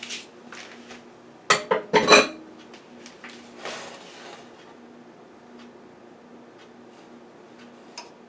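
Gluten-free streusel is spread over a metal loaf pan with a utensil, producing a few sharp clinks and scrapes clustered early, then sparse light taps, near and without talking.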